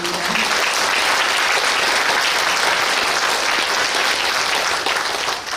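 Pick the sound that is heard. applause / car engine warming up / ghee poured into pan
applause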